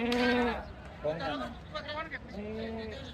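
A goat at a Chalisgaon livestock market bleats repeatedly in wavering, nasal calls, close and fairly clear, with a short break between cries.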